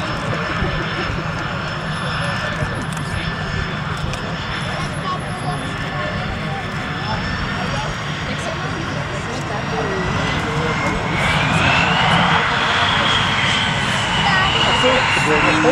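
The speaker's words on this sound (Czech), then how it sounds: "Akrobatický speciál Extra 300 a bojový letoun JAS-39 Gripen." Extra 300 aerobatic plane and JAS-39 Gripen fighter jet flying at an air show, a steady loud engine roar that swells toward the end, mixed with crowd noise and talk over a public address.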